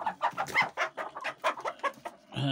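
Hens cluck close by in a quick, uneven run of short calls, a few sharper squawks among them, ending in a louder burst; no talk.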